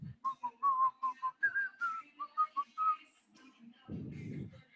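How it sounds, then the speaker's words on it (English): A person whistles a short, bouncy tune of about a dozen clear notes, fairly close and moderately quiet, followed by a pause and a low rumble of background noise. "y'all can probably hear me whistle on that at home."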